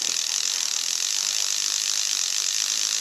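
A Greys fly reel's ratchet clicks in a rapid, continuous buzz as line is wound back in, bright and close with no pauses.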